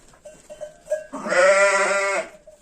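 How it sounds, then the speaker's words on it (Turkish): Sheep with lambs bleat inside a barn, first a few short, faint calls, then one loud, drawn-out bleat close by lasting about a second. "Burada kuzulu koyunların yeri"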